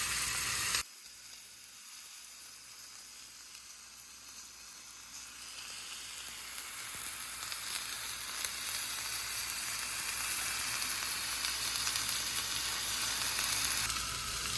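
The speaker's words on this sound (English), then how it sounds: "once you're done searing your meat, you want to transfer it to your slow cooker." Beef searing in a hot skillet for a slow-cooker butter beef dish, a steady loud sizzle that swells slightly and continues without talk.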